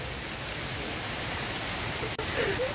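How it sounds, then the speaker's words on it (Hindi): Steady, dense hiss of rain falling outdoors, constant and close, with a brief dropout near the end. "यहाँ पर बाहर बारिश गिर रहा है"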